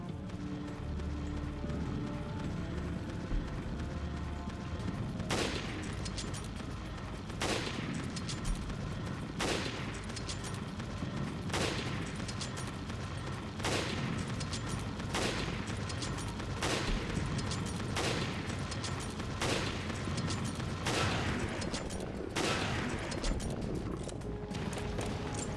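Rifle shots in Resident Evil Revelations, a string of single sharp cracks spaced a second or two apart over a steady game backdrop of rumbling ambience and footsteps, with no talk.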